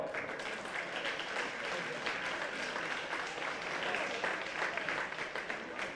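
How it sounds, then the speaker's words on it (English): Crowd applauding at a Clare under-15 hurling final presentation, a steady outdoor clapping wash lasting the full stretch at moderate distance, with faint voices mixed in. "So I'd like a round of applause,"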